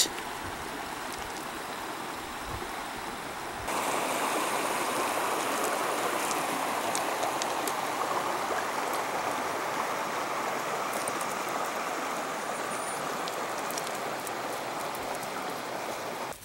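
A small creek flows steadily outdoors with a broad, constant rush of water that grows noticeably louder and closer a few seconds in and then holds steady, with no voices.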